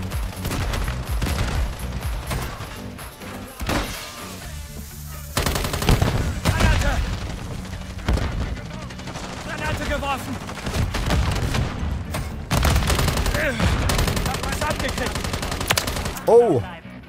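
Call of Duty: Modern Warfare 3 (2023) gunfire crackles almost continuously, with rapid automatic bursts and single shots layered over music and a voice talking throughout.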